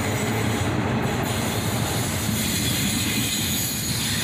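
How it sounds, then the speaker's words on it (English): A long CSX intermodal freight train led by a CM44AH and an ES44DC locomotive rumbles steadily past close by, wheels clacking on the rails with an occasional high squeal over the constant roar. "This intermodal train is led by a shiny new CM44AH rebuild, followed by an ES44DC."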